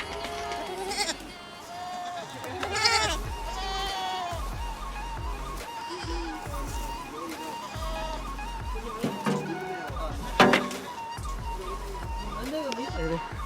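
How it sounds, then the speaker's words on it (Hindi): Goats and kids bleating repeatedly on a farm in China, several calls rising over a continuous background of voices and farm activity, with one loud bleat standing out near the end. "ये रहे सारी बकरियाँ और बकरे"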